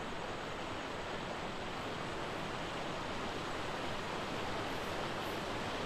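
Steady broadband rush of a waterfall beside a river in the video game Ark, a continuous even roar with no breaks, filling the whole stretch without any talk.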